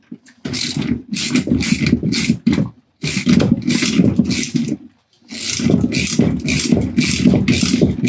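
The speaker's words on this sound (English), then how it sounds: "tighten up the top nut." A ratchet tightening a top nut, rapid close clicking in three long runs separated by brief pauses, loud and alone.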